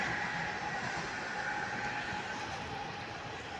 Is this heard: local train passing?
yes